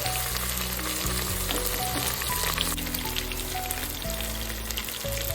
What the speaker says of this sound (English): Fry this mixture until the onions turn golden.